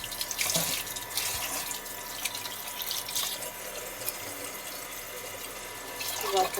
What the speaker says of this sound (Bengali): দেখুন মাছগুলো ভালো করে ধুয়ে পরিষ্কার করে নিয়ে এসেছি।